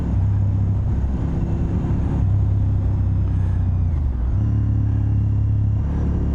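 Honda RC51 sport motorcycle riding along a smooth road, a loud steady engine drone with wind rumble, its pitch dipping briefly and settling again, close and continuous with no talk.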